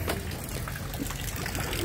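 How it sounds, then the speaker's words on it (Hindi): Water falls from above beside a houseboat on Dal Lake, a faint, constant splashing hiss with no clear breaks. "ये ऊपर से पानी गिर रहा"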